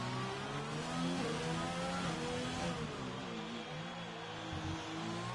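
A Formula-style racing car in a video game on the Singapore street circuit, its engine note rising and falling through gear changes, accelerating and downshifting with a continuous loud whine and no talk.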